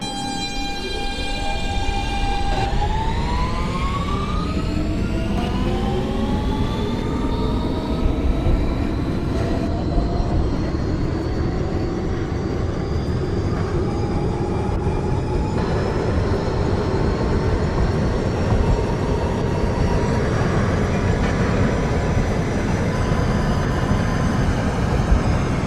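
A simulated R160B Siemens subway train on an N local run in openBVE drones continuously, its motors whining up through rising pitch as it accelerates, with steady rumbling wheel noise throughout.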